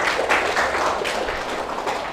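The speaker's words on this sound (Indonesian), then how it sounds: "Tepuk tangan untuk temannya." A class of students claps for a classmate, a dense, even patter of many hands filling the room and carrying on alone for a couple of seconds.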